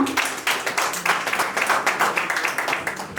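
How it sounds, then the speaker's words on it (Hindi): An audience claps to welcome a speaker onto the stage at a business pre-launch event, producing loud, fairly rhythmic applause with distinct pulsing beats throughout. "जोरदार तालियों से स्वागत करें उनका"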